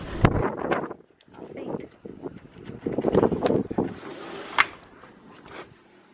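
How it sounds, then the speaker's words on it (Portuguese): Cold wind blowing outdoors in winter weather, gusting and rushing near the microphone with irregular swells, while a voice talks intermittently over it. "Vocês não vão conseguir ver o vento, é óbvio, mas conseguiram escutar, né?"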